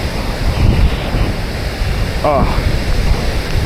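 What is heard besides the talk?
Ban Gioc waterfall roaring water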